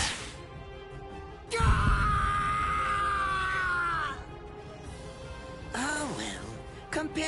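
A man screaming in pain in Bleach: Rebirth of Souls: a loud, sustained, strained cry lasting a couple of seconds, preceded by a heavy impact and followed by quieter vocal sounds.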